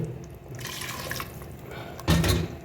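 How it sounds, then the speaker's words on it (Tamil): Water poured into a pot of Ambur mutton biryani rice cooking on a street stall: a steady liquid splash runs throughout and swells into a louder, fuller gush near the end. "ஒரு அறுநூறு எம்எல் ஊற்றிக்கங்க தண்ணி"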